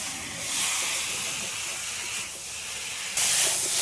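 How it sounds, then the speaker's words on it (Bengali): Fried potato and banana being stirred with spices in a hot pan for a tilapia curry, a loud continuous hissing sizzle that swells sharply near the end. "সব একসাথে একটু ভালো করে কষিয়ে নেব।"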